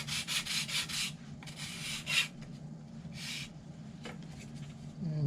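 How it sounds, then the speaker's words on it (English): Sanding an angled piece for a carbon gear mockup, short rhythmic back-and-forth rasping strokes in quick bursts, close and fairly quiet over a low steady hum. "you just take this angle and you sand it into this piece here."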